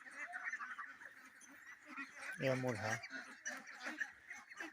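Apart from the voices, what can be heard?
ducks on a duck farm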